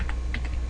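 A few quick clicks of computer keyboard keys being typed, close and fairly faint, in a short burst.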